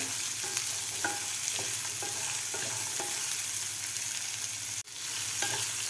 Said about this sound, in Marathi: कच्ची कैरी तर हे सुद्धा आपल्याला व्यवस्थित फ्राय करायचे आहे